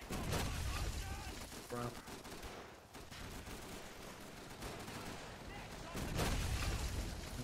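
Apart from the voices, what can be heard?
Panzer IV tank shooting at player in Call of Duty 3 video game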